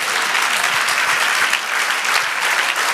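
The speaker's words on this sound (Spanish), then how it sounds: "Dale un aplauso al Señor." A church congregation claps together in sustained, dense applause, a steady wash of many hands close by with no voices standing out.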